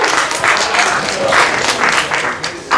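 An audience at an evening comedy show claps briefly, a dense burst of applause that swells and eases over a few seconds.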